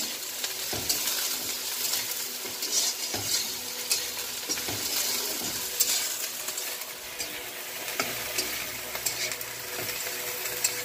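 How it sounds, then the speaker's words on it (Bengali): Kharkol leaf paste in a pan is stirred and scraped over a constant low sizzle, with soft utensil knocks spaced irregularly through the stretch, close and with no talk. "ভালো করে নেড়ে নেব"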